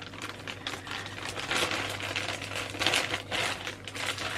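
Cardboard package being torn open at a pull tab, with crinkling, scraping rips and rustling bursts at close range, fairly steady over a low background hum.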